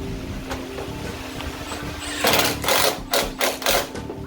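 A power tool runs down a 10 mm bolt while fitting a hood strut bracket on a Jeep Wrangler, starting after a quiet stretch with one sustained whir followed by a few shorter, loud pulsed bursts.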